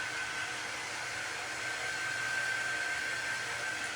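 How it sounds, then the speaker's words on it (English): A hair dryer blows steadily while drying chalk paste paint, a continuous close airy whoosh with a faint high whine, no voices. "We're gonna dry it real quick with my air dryer because it's just chalk paste, so it dries super quick"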